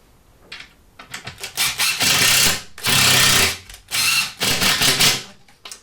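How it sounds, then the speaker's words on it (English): A cordless driver revs in repeated short bursts as a screw is driven into wood, pausing between pulses, loud and close. "And pop my screw in."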